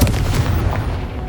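A Confringo fire spell explodes in the Hogwarts Legacy video game, a single heavy boom with a rumbling, decaying tail, loud and close, with no talk.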